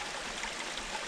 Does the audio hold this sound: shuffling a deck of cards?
no